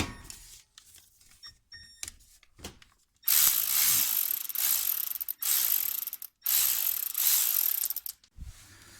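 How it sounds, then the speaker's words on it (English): Hand ratchet loosening a brake caliper guide bolt on a Honda Insight: short bursts of rapid clicking between pauses, close and fairly quiet, ending with a soft knock. "So we're going to undo this bottom guide bolt right here."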